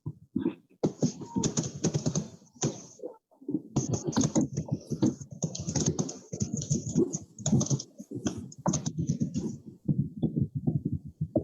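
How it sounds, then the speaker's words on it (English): Fast, irregular clicking of a computer keyboard during an online class, close and busy with brief pauses between bursts of keystrokes, and no talking. "Are you typing it, Robert?"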